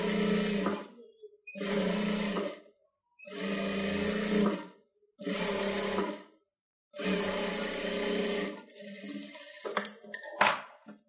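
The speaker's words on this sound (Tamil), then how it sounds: "இதை கரெக்டாக ஓரத்தில் ஒரு எஜ்ஜு தையல் போட்டுருவோம்" Sewing machine stitching an edge seam along blouse lining, running in five bursts of steady whirring separated by short pauses, close and alone, ending with a few small handling clicks.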